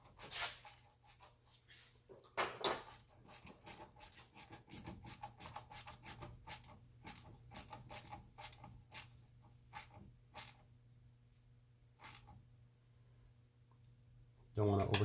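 Faint, rapid ratcheting clicks from tightening hose clamps on the plastic thermostat housing of a 2009 Mini Cooper Clubman, in irregular bursts with pauses, close to the microphone in a quiet workspace.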